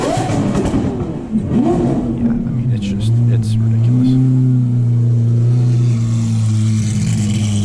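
A powerful supercar engine revs and roars up close at a car show, pitch climbing and holding loud, while someone speaks briefly over it.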